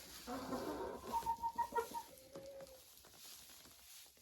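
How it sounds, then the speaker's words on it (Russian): Hens on a farm cluck in a quick run of short, close calls while scratching through hay put out as winter feed, then quieter rustling follows. "И курочки сами себе тут"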